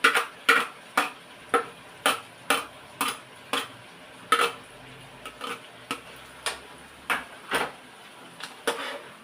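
Tofu and pork being stirred in a pan as celery goes in, a spatula scraping and clinking against the metal in a steady rhythm of about two strokes per second, close and fairly loud over a faint sizzle.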